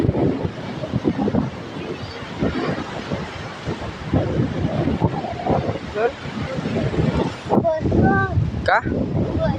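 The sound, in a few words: sea waves and wind at the shore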